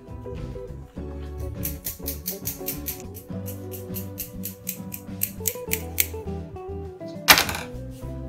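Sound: dicing tomatoes with kitchen scissors

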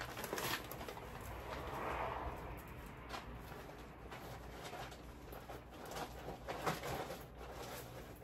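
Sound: woodpecker in a front yard

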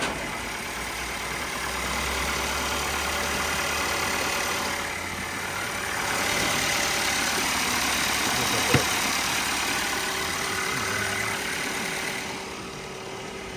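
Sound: car engine running after being started

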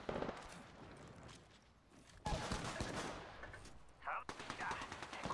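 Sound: gunfire in Apex Legends video game

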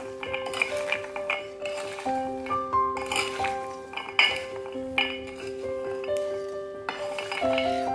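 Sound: mixing almonds in a bowl

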